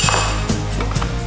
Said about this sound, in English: if we just roughly chop through our leaves, we can use that for garnish